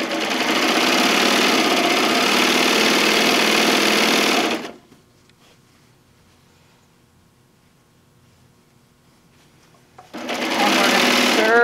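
A sewing machine stitching a fabric tote bag panel runs in a steady loud mechanical whir for several seconds, stops into near silence, then starts up again.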